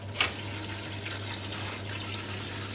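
Tap water flows into a household filter system, beginning with a brief splash, then a steady low rushing and hiss of filling that continues evenly without talk.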